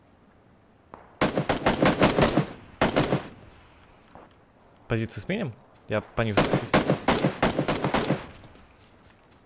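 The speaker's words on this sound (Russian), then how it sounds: "выстрелы такие." Automatic gunfire in the PUBG battle royale video game, with long rapid bursts and short volleys rattling loud and close, repeating over several seconds while someone speaks briefly between shots.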